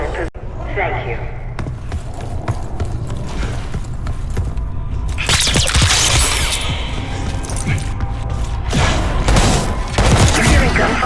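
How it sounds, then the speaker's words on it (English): Gunfire in the Black Ops 6 campaign on PC: a dense, continuous spread of muffled shots and clattering impacts mixed with game ambience, growing louder and busier midway through. "You hearing gunfire?"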